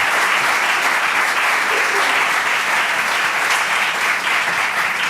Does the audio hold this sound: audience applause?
yes